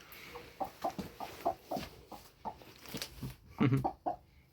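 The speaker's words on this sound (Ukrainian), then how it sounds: "Це воно вже трошки тихіше кокає" A broody hen gives a series of soft, low clucks in an uneven rhythm, close by and fairly quiet, with no one talking.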